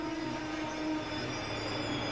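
An ICE high-speed train rolls along the rails as a steady, fairly faint rumble, with thin, sustained wheel squeal tones running over it and no speech.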